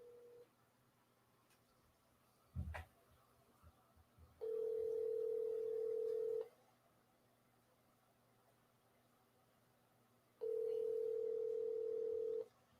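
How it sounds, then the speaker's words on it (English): An outgoing phone call, with two long steady ringback tones spaced several seconds apart over a quiet line, preceded by a brief click or thump. "Let's give Donald a call and inform him once again"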